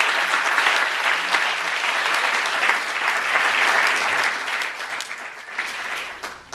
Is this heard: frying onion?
no